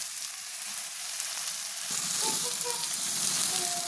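Garlic, ginger, onion and green chili frying in oil for an egg curry, a steady close sizzle that grows louder and busier after a fresh addition midway, with faint stirring.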